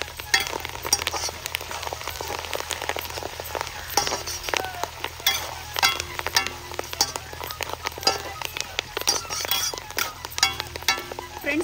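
Tempering of curry leaves in hot oil being stirred for a mango avakaya pickle: steady sizzling and frying crackle with scattered metal clinks from the spoon, continuous and moderately close.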